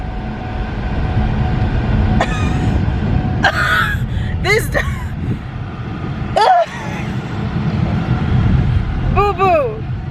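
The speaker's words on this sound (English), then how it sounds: "We just came from a walk, so the AC is blasting." A car's air conditioning blows hard as a constant roaring whoosh that fills the cabin, broken by a dog's high whines and whimpers and by someone talking over it.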